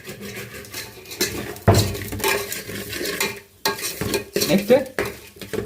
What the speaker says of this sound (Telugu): కల్లుప్పు, కారం, పసుపు వేసేసుకొని తిప్పేసుకోవాలి, మాడిన దాకా తిప్పాలి